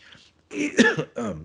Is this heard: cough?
yes